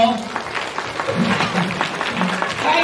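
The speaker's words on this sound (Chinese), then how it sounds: "先给他们拍拍手" A group claps steadily for young children at a handwashing event run with a county health bureau, the applause mixed with voices talking.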